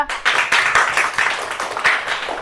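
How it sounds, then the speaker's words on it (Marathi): Hands clapping in quick, steady, fairly close bursts for a couple of seconds, with nothing else in the sound. "छान छान टाळ्या वाजवा"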